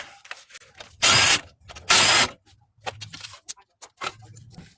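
A socket ratchet works a 19 mm bolt on the front brake of a 2015 Acura MDX, with quick clicking and scraping bursts, two longer loud rasping pulls, and short metallic taps between them, close up.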